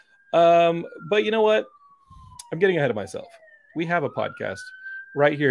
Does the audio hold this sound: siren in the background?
yes